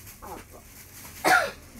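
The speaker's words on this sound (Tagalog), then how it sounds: "Ubo ka ng ubo." A single harsh cough bursts out after a moment of faint murmuring, close and fairly loud.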